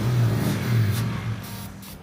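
The engine of a Ford Mustang GT with an engine problem, being started on ether, fires and revs in two rising surges, then settles into a fading idle close by.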